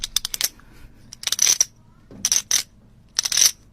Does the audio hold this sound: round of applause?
no